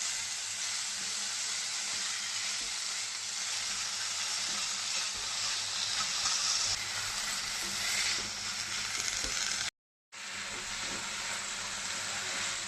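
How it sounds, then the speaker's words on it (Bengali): Banana flower (mocha) stirred and fried in hot spiced oil in a pan, giving a steady, continuous sizzle with soft scraping, broken by a brief gap of silence. "মোচাটা দিয়ে ভালো করে নাড়িয়ে নেব।"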